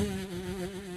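A human voice imitates a buzzing housefly, producing a steady, close, continuous drone with a wavering pitch that lasts the whole second, with no other talk.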